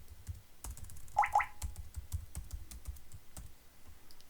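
Computer keyboard keys tapped while entering a database password and username, a sparse run of soft, close clicks with a brief quick cluster near the start, no voices.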